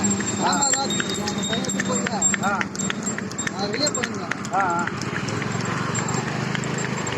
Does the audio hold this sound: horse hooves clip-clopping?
yes